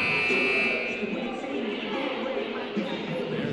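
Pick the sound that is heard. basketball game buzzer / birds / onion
basketball game buzzer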